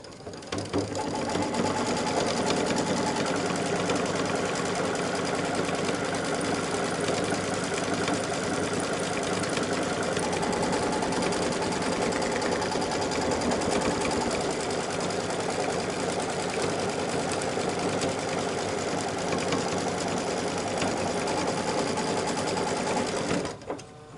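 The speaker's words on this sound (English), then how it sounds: "it's going to stitch the tack down for my t-shirt" An embroidery machine stitches a tack-down line through a t-shirt laid over the hooped design, its needle running in a fast, steady, unbroken mechanical chatter at close range for about twenty-four seconds, with no one talking.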